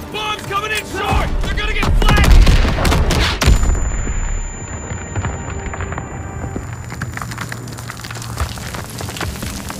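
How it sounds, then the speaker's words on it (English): Bombs and gunfire in a Call of Duty WW2 battle: dense crackling shots and heavy blasts build to a loud peak, then a ringing tone hangs over fading rumble and debris. "Clear out! Bombs coming in short!"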